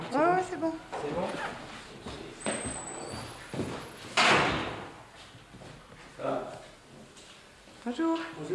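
A city bus door in Bourges, 1992, is held and then swung shut with one sharp bang midway, while people talk before and after.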